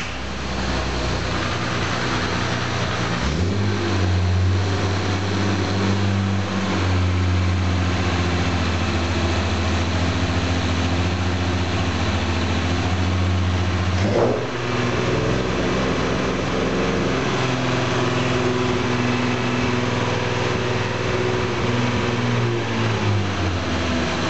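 Jaguar E-type independent rear suspension test rig running in first gear with a noisy exhaust, a steady loud engine drone that rises in pitch early on and holds, with a brief knock midway, no voices.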